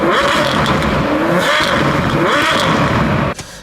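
A sports car engine revs loudly and repeatedly, rising and falling in pitch, then cuts off abruptly near the end.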